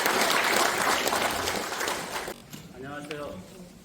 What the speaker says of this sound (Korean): 큰 박수로 맞이해주시고